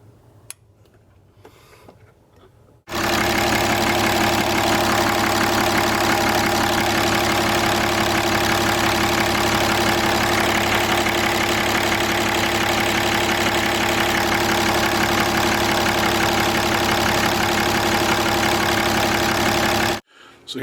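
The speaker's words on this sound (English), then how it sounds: "I want to just now start her up and see if there's any leaks." A diesel truck engine with a freshly repaired CP3 fuel feed line starts and settles into a steady, loud idle that runs unbroken and close by for most of the stretch, with a few quiet seconds before it fires up.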